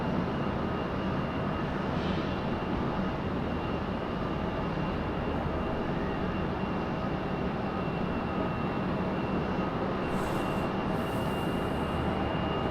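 An airplane taxiing at Raleigh-Durham International Airport, a loud steady engine roar and broadband rumble holding level throughout, with a faint high whine layered on top.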